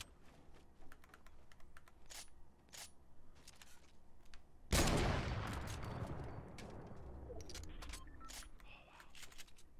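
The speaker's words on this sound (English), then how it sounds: "Where are those shots coming from?" Gunshots ring out in an online shooter video game as scattered sharp cracks, with one loud burst midway followed by a lingering rumble, under a steady patter of keyboard clicks.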